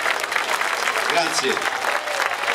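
Audience applause at the third international lyra festival in Spilinga, a dense wash of clapping throughout, with someone speaking briefly over it.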